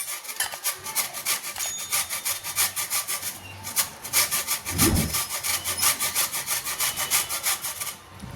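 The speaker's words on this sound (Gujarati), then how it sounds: "હવે આપણે આ કાચી કેરી લીધી છે અને કેરીને આપણે ખમણી લેવાની છે થોડી।" Raw green mango being grated on a hand grater, rapid rhythmic scraping strokes, loud and close, running steadily with one brief thump partway through and no talking.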